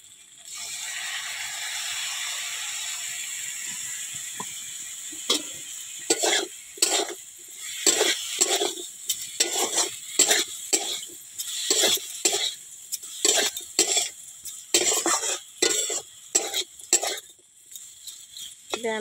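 Mango pickle mixed with ground mustard, cumin and garlic, heard as a run of irregular scraping and clattering stir strokes against a pot, close and fairly loud, with a steady hiss at the start and no talk.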